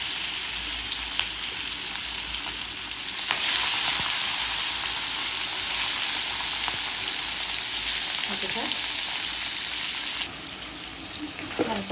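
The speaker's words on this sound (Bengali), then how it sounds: "হালকা কষিয়ে নিচ্ছি" Rui fish fried in a pan with beans, potato and turnip gives a loud, constant sizzle and hiss, with occasional scrapes of stirring and a brief drop in intensity near the end.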